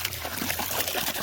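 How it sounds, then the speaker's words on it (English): Liquid pours steadily into a container beside a pig's wallow, a continuous close trickle and splash with no break. "I'm going to pour the rest of this in here."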